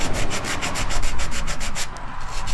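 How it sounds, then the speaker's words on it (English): Folded rough sandpaper rubs by hand along the cut edges of wooden gingerbread porch trim, a rapid rhythmic scratching of close strokes with no talking. "I'm just using this folded rough sandpaper."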